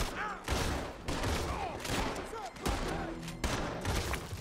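Gunfire rings out in the video game Red Dead Redemption 2, with a series of loud, close shots at irregular intervals and echoing tails, while someone talks over them.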